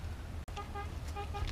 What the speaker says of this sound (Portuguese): a gente ouve até as buzinas dos carros